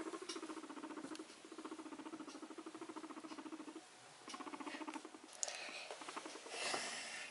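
A pet guinea pig makes a soft, rapid pulsing squeak-chatter while popcorning, a steady rhythmic run of faint close chirps that pauses briefly, then resumes amid light rustling.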